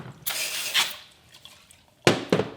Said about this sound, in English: I'm just going to spray a little bit of brake clean in here.